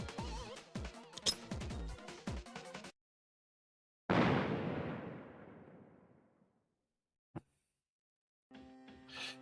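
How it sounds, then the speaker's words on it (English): A single loud explosion booms in a video game, a sudden blast that rumbles and decays over about two seconds, set between stretches of game music and effects, followed by a brief sharp pop. "A loud explosion sounded from below."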